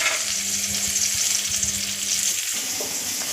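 Sliced onions fry with mustard seeds in hot oil in a pan for Tamil drumstick-leaf (murungai keerai) poriyal, giving a loud continuous sizzle with bursts of crackle and occasional stirring noises.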